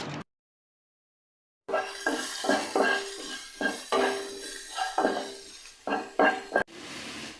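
Finely chopped onion goes into a pan for chicken roll masala, giving repeated clattering and scraping of a utensil against the pan in close, uneven bursts after a brief silence.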